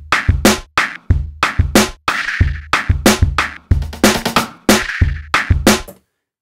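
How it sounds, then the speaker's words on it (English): Dry drum kit from a Maschine expansion playing a punchy beat, tight kicks, snares and hats in a steady pattern with no reverb or effects, loud and close, ending in silence. "what I've got here is a drum kit for a new Maschine expansion that I'm working on"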